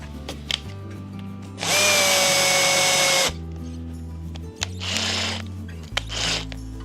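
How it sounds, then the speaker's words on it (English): A power drill on a scale model build whirs loudly for about two seconds, then two shorter bursts follow after a pause, with a low mechanical hum underneath. "Drilling time."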